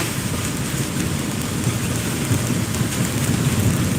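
Heavy rain roars steadily during a motorcycle ride on a wavy road in Banjarmasin, a dense, loud wash of noise with a low rumble underneath and no speech.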